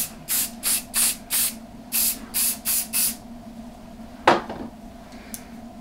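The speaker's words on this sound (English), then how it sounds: "So I'm gonna spray it down really good" A spray bottle mists hair in nine quick, rhythmic bursts, close by. A single sharp knock follows, then quiet.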